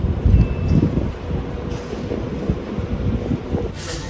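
Train rumbling past close to a railway station during a Christmas market outing in France, a low continuous roll with wind buffeting the microphone and a brief hiss near the end.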